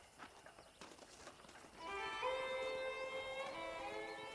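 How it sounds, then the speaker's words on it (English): A horse on a ranch in the Wild West game Red Dead Redemption, with a few faint hoof clops and then a loud, drawn-out whinny ringing close by. "I picked out a fine horse for you."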